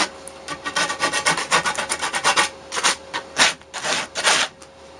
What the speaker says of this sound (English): I'm just taking like a piece of sandpaper and I'm just sanding off